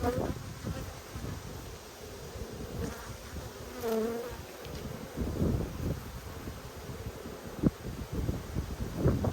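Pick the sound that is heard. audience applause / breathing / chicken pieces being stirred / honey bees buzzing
honey bees buzzing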